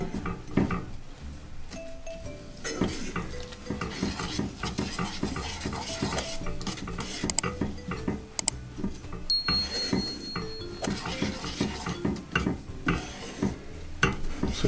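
Raw sesame seeds stirred in a pan over a low flame, a continuous scraping rattle with light clinks of the utensil against the pan and a faint sizzle underneath.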